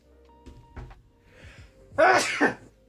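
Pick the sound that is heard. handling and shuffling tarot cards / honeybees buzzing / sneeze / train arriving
sneeze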